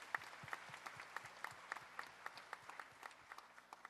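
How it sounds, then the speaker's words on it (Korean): A church congregation claps in thanks after choir singing, a faint, sparse applause of distinct individual claps in a loose, scattered rhythm. "박수 올려드리겠습니다"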